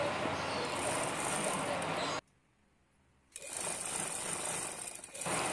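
A sewing machine stitches the corners of a 180x200 anti-slip bed sheet in two close, steady bursts of rapid whirring, separated by a short quiet pause.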